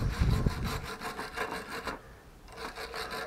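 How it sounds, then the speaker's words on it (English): A wire brush scrubs a water pump part during repair, making close, rhythmic back-and-forth rasping strokes that pause briefly and then resume. "wire brush."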